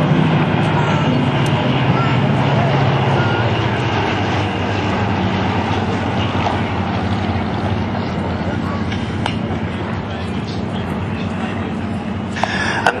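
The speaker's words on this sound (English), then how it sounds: "These amazing aeroplanes returning from the combat." Second World War Spitfire and Hurricane fighters fly past at an airshow, a steady loud engine roar and drone filling the whole stretch without letup, with a commentator's voice running over it.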